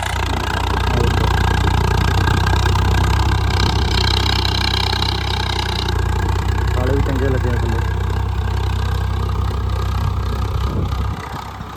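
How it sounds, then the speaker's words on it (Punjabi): A Swaraj 855 tractor engine idles nearby with a steady low throb throughout, cutting off abruptly at the end. "ਟਰੈਕਟਰ ਪੂਰਾ ਵਧੀਆ ਚੱਲਦਾ"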